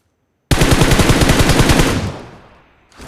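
Automatic gunfire from the BGMI battle-royale video game: a loud, rapid burst of shots about 1.5 seconds long that then decays into a fading echo. No speech is heard.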